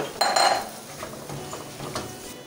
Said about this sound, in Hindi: ये ऐड करके इसको अच्छी तरह मिक्स कर देंगे।